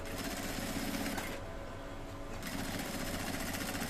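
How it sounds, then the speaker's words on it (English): A sewing machine stitches the back armhole and lining of a kimono jacket with a loud, fast, steady mechanical whir that eases briefly in the middle and then resumes, close by and with no talking. "We now sew just the armhole of the back and its lining alone."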